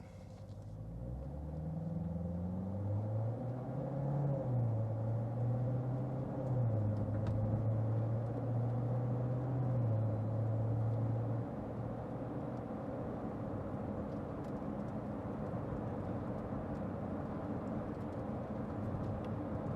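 A 2019 Corvette Z06 is driven at low, steady speed, giving a continuous engine rumble. A gear change or rev shift comes partway through, and the drone then evens out at a constant level with no voices.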